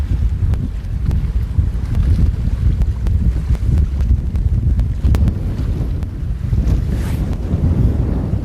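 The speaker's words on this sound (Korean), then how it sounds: "바람이 이렇게 불고 있습니다" Wind buffeting the microphone at sea on a cuttlefish fishing trip off Goheung, a steady loud low roar with gusty rumble throughout, no talk.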